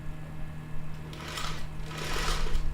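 Sewing machine stitching a triangle piece for a quilt, a close rapid mechanical whirr that starts softly and swells in two quick bursts, with no talking.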